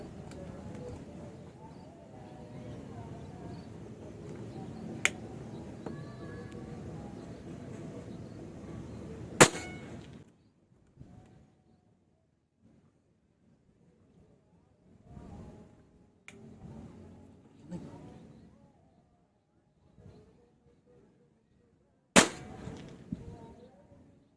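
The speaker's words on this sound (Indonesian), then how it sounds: "Kita coba masing-masing 5 kali nembak. Yang pertama kita coba slug 14 grain." PCP air rifle, an AMMO HK 100 charged to 2200 PSI, firing 14 grain slugs: two sharp, loud shots far apart, with quieter clicks and handling noise between and faint background sounds.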